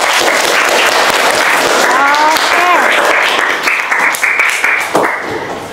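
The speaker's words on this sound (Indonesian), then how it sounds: "Luar biasa, tepuk tangan." Students applauding in a school classroom, a sustained burst of many hands clapping, loud and close, with a few voices calling out over it before it thins out.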